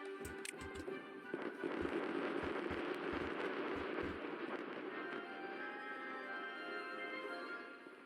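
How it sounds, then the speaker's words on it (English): Explosions in the beaver colony-building game Timberborn, blasting terrain: a quick run of sharp booming cracks up front, then a long rumbling, crackling wash of debris that slowly fades, with no voices. "And we're going to start an explosion."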